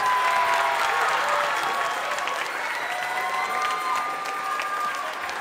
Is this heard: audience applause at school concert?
yes